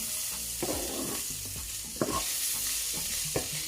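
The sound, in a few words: curry powder sizzling in oil while stirring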